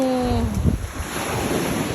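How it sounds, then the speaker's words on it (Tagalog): Sea waves washing onto an island shore, a steady broad rush of surf with wind noise buffeting the microphone throughout, loud and close, with no talking. "Ito hampas to ng dagat yun."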